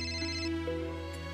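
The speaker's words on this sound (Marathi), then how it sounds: "मुक्ताचा फोन आहे" A phone ringtone plays indoors during a Marathi TV drama scene, a steady electronic melody with sustained tones running through the short moment, fairly quiet and without talk.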